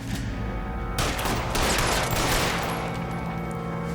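Heavy gunfire from L.A. Noire bursts in after a quiet start, a dense, loud fusillade of overlapping shots that keeps roaring without a break to the end.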